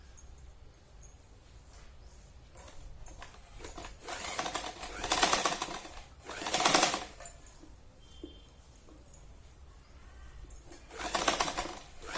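A sewing machine stitches the edges of a fabric roti cover, finishing it with piping. It comes in several short, loud bursts of rapid stitching, separated by quieter pauses.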